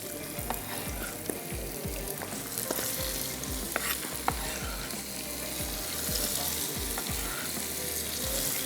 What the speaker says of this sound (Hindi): और इसको थोड़ा सा हमने फ्राई कर लेना है।